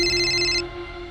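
A phone ringtone for an incoming call rings during a tense crime-drama scene, a loud, close, steady electronic tone whose bright upper notes cut off partway while a lower hum continues.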